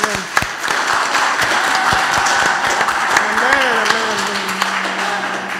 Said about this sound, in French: Acclamons l'Éternel.